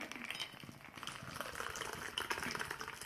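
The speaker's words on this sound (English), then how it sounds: "take your martini glass and pour it in there" Martini being poured from a shaker into a martini glass, a close, continuous liquid trickle and splash lasting a few seconds.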